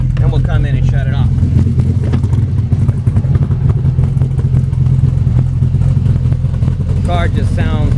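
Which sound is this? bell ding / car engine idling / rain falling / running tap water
car engine idling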